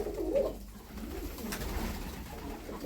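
A soft pigeon coo sounds briefly near the start, low and faint against a quiet background hum.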